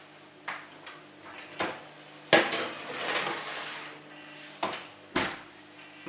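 A baking tray of basboussa slides into a preheated home oven, giving several sharp metallic clanks and knocks spread over a few seconds, with a short rattle between them, close and fairly quiet against a faint steady background hum.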